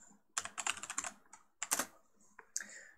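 Quiet keystrokes on a computer keyboard while coding an HTML form, in three short bursts of rapid clicks separated by brief pauses, close and without talk.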